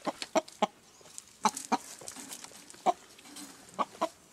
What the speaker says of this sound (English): I have two huge roosters